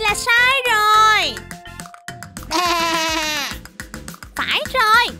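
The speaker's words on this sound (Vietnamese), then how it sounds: "Phải rồi, đây là tiếng kêu của bạn cừu bông mà." A sheep bleats in a children's animal-sounds cartoon game, several long wavering bleats in a row, loud and close, separated by short pauses with small clicks between them.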